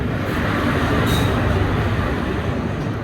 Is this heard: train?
yes